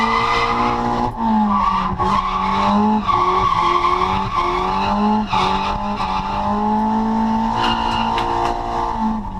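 Tuned drift car on a track initiating a slide in third gear, engine screaming at high revs with bouncing limiter-like pulses and tire squeal, loud, close and continuous.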